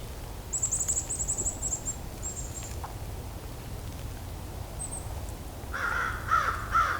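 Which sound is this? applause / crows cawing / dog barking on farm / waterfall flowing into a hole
crows cawing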